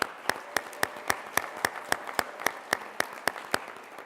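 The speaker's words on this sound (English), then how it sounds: "round of applause for Penguin Random House" Sparse applause at a school business challenge event in honor of a sponsoring publisher; a small crowd's light clapping with one prominent nearby pair of hands striking in a steady, regular beat over a soft patter.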